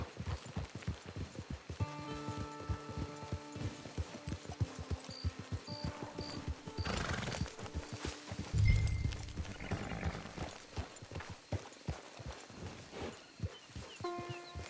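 Hooves clip-clop in an uneven rhythm alongside a snorting, whinnying horse in the video game Red Dead, with short tonal game chimes and rustling in the background.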